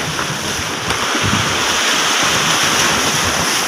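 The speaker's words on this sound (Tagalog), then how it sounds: "Kaya dito naaanod sila dito, lakas ng alon." Strong sea waves driven by high wind wash along a shore where broken styrofoam has drifted in, a loud steady surf roar with wind rumble on the microphone and no voices.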